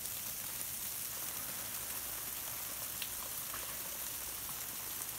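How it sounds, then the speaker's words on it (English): Freezing rain falls steadily outdoors, a dense even hiss with faint scattered ticks of drops on surfaces, continuous and moderately quiet with no voices. "Who else has freezing rain like this?"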